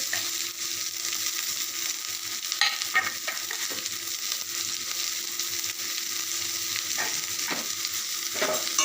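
Chopped onion and slit green chillies fry in a pan with a steady, close sizzle and occasional scraping stirs, no voices present.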